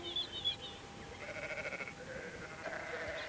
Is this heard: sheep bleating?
yes